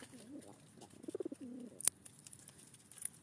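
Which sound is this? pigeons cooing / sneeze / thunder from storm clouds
pigeons cooing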